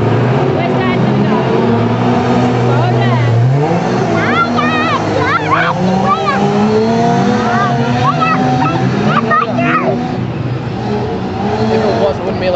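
Race cars roar around a dirt racetrack, engines droning and revving steadily throughout with occasional pitch swoops as they pass, while people talk over the continuous engine noise.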